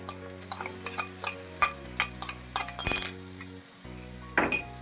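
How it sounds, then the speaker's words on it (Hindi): Green chilies being fried with ginger and garlic in a pan for a desi aloo masala, with irregular spoon clinks and stirring scrapes against the pan over a faint sizzle, fairly close and quiet, no talking. "अब आपने इसको भी अच्छे तरीके फ्राई करना।"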